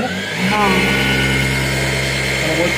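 A MAQI Q1 sewing machine motor hums steadily and loud, its pitch rising and falling as the speed is adjusted, with a voice talking over it.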